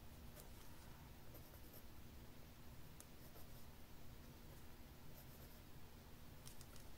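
A pencil scratches contour lines on paper, a very faint, continuous dry scraping with small ticks and strokes over a quiet background hum.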